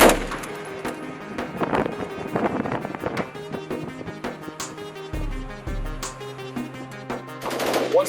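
A .50 caliber M2 BMG machine gun fires aboard a U.S. Navy ship in loud rapid bursts, with short pauses between strings of shots and wind buffeting the microphone at sea.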